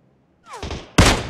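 A single sharp Kar98k rifle shot landing a headshot in the video game PUBG Mobile, preceded by a brief whooshing rise and ending in one loud, close crack.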